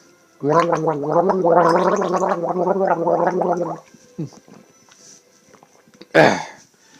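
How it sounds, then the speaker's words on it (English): A person gargles to soothe a croaky throat, a loud close bubbling rattle lasting about three seconds, followed by a brief pause and a sharp spit or cough. "I just simply gargling my throat to try and get rid of that croaky cough."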